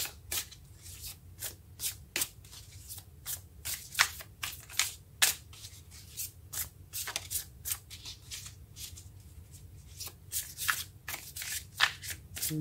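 Tarot cards shuffled and drawn by hand during a reading, a steady run of crisp riffling and slapping bursts over about twelve seconds, close and moderately loud with no talking.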